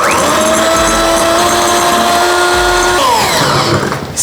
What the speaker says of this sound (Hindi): स्टेप बाय स्टेप साथ साथ बीटर चलाते हुए मिलाएंगे 1 चम्मच।